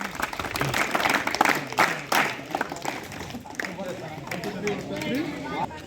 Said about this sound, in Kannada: ಚಪ್ಪಾಳೆಯ ಮುಖಾಂತರ ವೇದಿಕೆ ಮೇಲೆ ಬರ್ಮಾಡ್ಕೊಡ್ಬೇಕು ಅಂತ ತಮ್ಮ ಶಿಬಿರಾರ್ಥಿಗಳನ್ನು ಕೇಳ್ಕೊಳ್ತಾ ಇದ್ದೀನಿ.